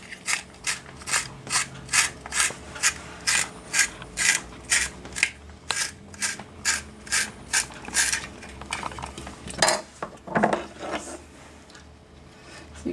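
A giant carrot sharpener gadget grinds through vegetables for strips, giving a steady run of about twenty rhythmic rasping cranks at close range, then a few looser scraping strokes at the end.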